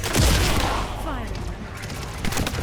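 Sci-fi gunfire bursts from The First Descendant, a loud close volley at the start that gives way to lingering whooshing effects, with a couple of further sharp reports near the end.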